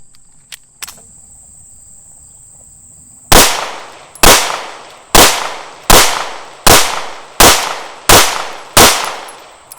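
Remington R51 pistol, newly repaired, firing 124 grain +P Remington Golden Saber rounds outdoors: eight loud, sharp shots at a steady pace, with crickets chirping faintly beforehand.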